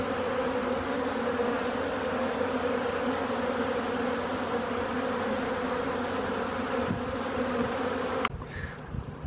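Honeybees buzzing around a hive entrance as foragers return with pollen in late winter, a dense continuous hum close by that cuts off abruptly near the end.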